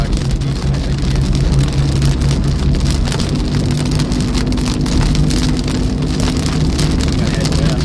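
Heavy rain drums steadily and loudly on a car while storm chasing in Iowa, a dense constant downpour with a low engine hum underneath.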